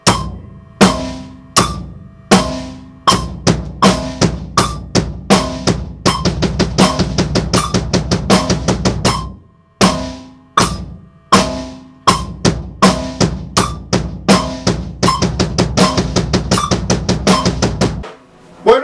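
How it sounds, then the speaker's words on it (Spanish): Bass drum exercise played at 80 beats per minute: a sharp click count-in, then crisp, close kick drum hits in steady, varied rhythmic patterns over a metronome-like pulse, loud and alone, ending with a brief pause. "marcas tu bombo sin fuerza, pero con el control de la velocidad y la precisión de las notas"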